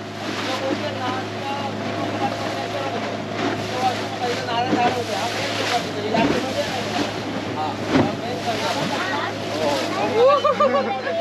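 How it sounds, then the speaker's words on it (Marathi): Rough, churning sea at Sangam Point on the Devbag coast of Maharashtra, a steady broad roar of heavy surf mixed with gusty wind buffeting the microphone, with a voice talking over it. "समुद्र आज खरंच जास्त खवळलेला आहे."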